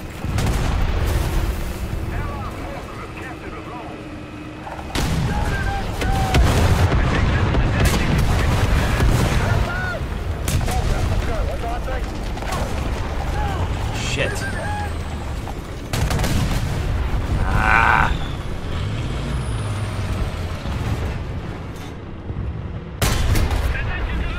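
Gunfire and heavy booms in War Thunder tank combat on a French 11.7 lineup, dense repeated blasts and rumbling bursts with a speaking voice over them.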